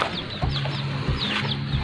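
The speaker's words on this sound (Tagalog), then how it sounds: "kung napapansin nyo marami na kami ditong native na manok" Several native chickens on an upland farm cluck close by in short, overlapping bursts, with scattered higher chirps among them and no talking.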